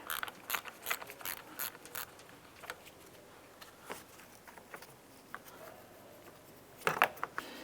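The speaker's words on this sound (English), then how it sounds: "let's go ahead and disconnect the negative terminal off the battery" Disconnecting the negative battery terminal on a 2004-2009 Dodge Durango, heard as close, sharp ratchet clicks in quick bursts with brief pauses and faint metallic handling, no talk.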